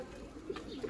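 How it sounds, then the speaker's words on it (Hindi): Sialkoti pigeons in a breeder's loft give soft, brief coos, close by and fairly quiet. "सियालकोटी जौंसरा दोस्तों, ब्रीडर ब्रांड जोड़ा दोस्तों"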